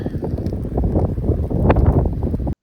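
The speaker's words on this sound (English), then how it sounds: "it's a little windy on the campfire" Steady, blustery wind at a campfire in Virginia in the fall, buffeting the microphone with a low rumbling roar, continuous throughout before cutting off abruptly.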